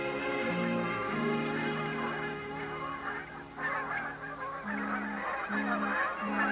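Geese honk repeatedly in short bursts, several birds calling back and forth at moderate distance with a few quieter gaps in between.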